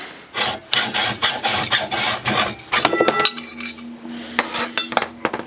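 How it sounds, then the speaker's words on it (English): A hacksaw cutting a board to 24.5 inches for workbench wheel lifts, with quick rhythmic rasping strokes close by and a few light metallic clinks near the end as the cut finishes. "I'm cutting it down with the hacksaw"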